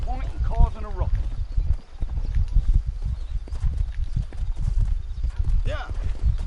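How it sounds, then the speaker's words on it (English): Horse hooves clip-clop steadily at a walking pace in the Western video game Red Dead, with low rumbling game ambience underneath and a brief whinny-like tone near the start and end. "Maybe let me get on my horse before you start riding away."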